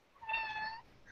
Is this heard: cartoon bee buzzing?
no